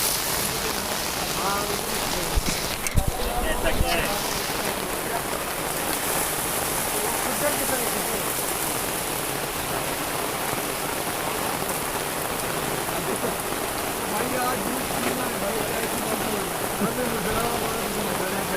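Heavy thunderstorm rain in Islamabad pours down in a dense, steady hiss of drops striking surfaces, with a brief clatter early on and faint voices beneath.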